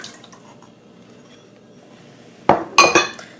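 Egg whites are added to a large metal bowl in a home kitchen for a flourless chocolate cake: a quiet lead-in, then a few sharp, close metallic clinks and a wet splash near the end.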